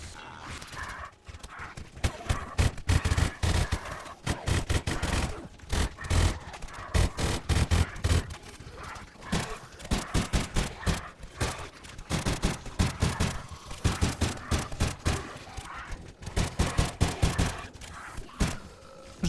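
Gunfire in 7 Days to Die brings down a swarm of vultures: rapid sharp shots in dense bursts with short pauses, loud and close, running across the whole stretch with little talk.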